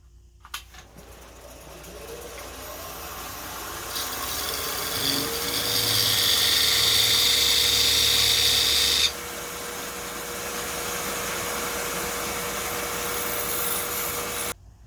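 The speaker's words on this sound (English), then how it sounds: "I'm going to actually cut my groove right on the edge of the bat." A wood lathe turning a baseball bat while a tool cuts a groove at the bat's edge, a steady motor whine rising into a louder, rough scraping cut for several seconds, then easing to a quieter, continuous rubbing drone.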